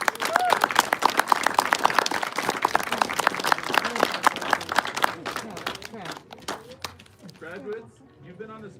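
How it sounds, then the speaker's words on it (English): At a 2020 Missoula graduation ceremony, the crowd applauds graduates' families and friends with brisk clapping that gradually thins out and fades, with voices heard over it. "Let's have a round of applause for all of you, the friends, the family that have supported these students."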